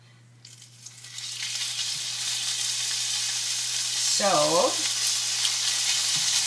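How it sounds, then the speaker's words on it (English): Chicken hits a hot stainless non-stick pan and a steady, loud sizzle builds quickly and holds, close and continuous, with a brief spoken word near the start. "I'm actually going to put some of the chicken in here because the pans are nice and hot."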